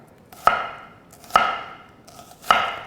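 A knife chops onion into large chunks for a broth, three separate sharp thuds on a cutting board, each with a short ringing tail, evenly spaced about a second apart, close and clear with no voices.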